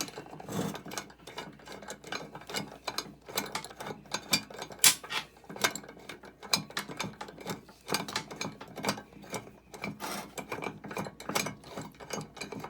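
A bench vise cranked tight on a toy monster truck wheel, a steady run of close ratcheting clicks and metallic ticks repeating throughout without talk.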